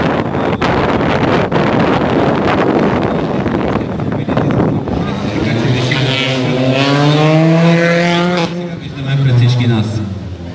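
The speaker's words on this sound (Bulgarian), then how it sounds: "Антон Дидов премина през Ситроен Саксо" A Citroen Saxo rally car roars past on a stage of the Tvardica-Elena rally, engine loud and close and rising then falling in pitch as it passes, with wind buffeting and a voice talking over it.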